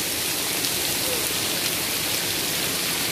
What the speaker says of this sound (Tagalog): Medyo tumila po ang ulan ngayon.